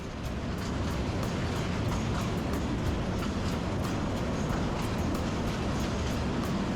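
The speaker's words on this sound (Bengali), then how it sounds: "এই মুহূর্তে আমরা অতিক্রম করছি মেঘনা নদীর উপরে নির্মিত প্রথম ভৈরব রেল সেতু।" A passenger train crossing the Bhairab rail bridge over the Meghna River, heard from on board as a dense, continuous roar with a regular clack of wheels over rail joints, steady and loud throughout.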